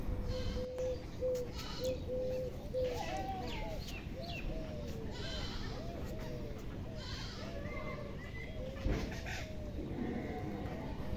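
Small birds twitter and chirp repeatedly around a rural house rooftop, moderately close, over a low background murmur of village ambience.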